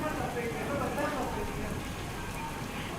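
Light rain falls steadily over Vyara town in Tapi district, a soft continuous patter that stays even and close throughout with no clear individual drops standing out.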